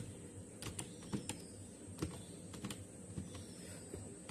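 Fast typing on a computer keyboard while working in an Excel spreadsheet, a close, steady stream of light key clicks with a few sharper taps, no voices.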